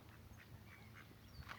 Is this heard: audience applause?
no